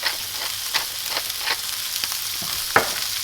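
A burger patty seasoned with salt and pepper sizzles steadily in a pan, a continuous close frying hiss broken by occasional sharper pops and spits.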